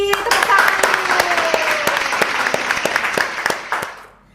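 A burst of brisk clapping, close and fairly loud, with sharp claps over a continuous wash of sound that fades out near the end; a voice is also present.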